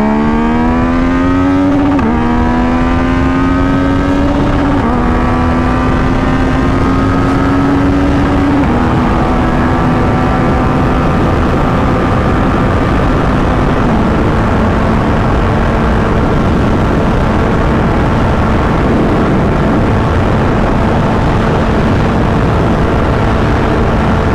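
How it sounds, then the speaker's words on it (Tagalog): A Yamaha MT-09 motorcycle on a highway accelerating hard through the gears, its engine note climbing steadily with distinct drops at each shift, loud and close with steady wind roar throughout. "So dito itetesting natin yung top speed nitong bike na to."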